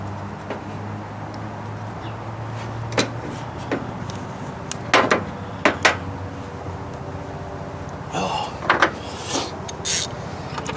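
Knife or blade cutting a small piece of rubber hose during carburetor work, heard as a few sparse rubbing and scraping strokes over low background hum.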